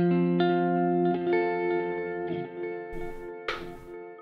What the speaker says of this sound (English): I love a good tape mod and tape saturation, so we'll turn those up.